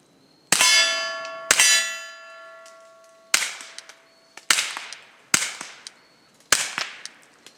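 KelTec CP33 pistol shots ring out at an outdoor range. Six sharp reports, several followed by ringing metallic clangs as steel targets are struck, arrive at irregular intervals.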